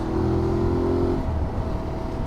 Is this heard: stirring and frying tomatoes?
no